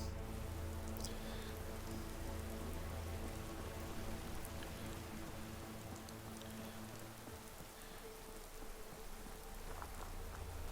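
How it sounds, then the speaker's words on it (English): Steady rain falls throughout in the video game Fallout: London, a dense, even patter of drops on surfaces that carries on alone at a constant moderate level with no voices. "It's a nice rainy day."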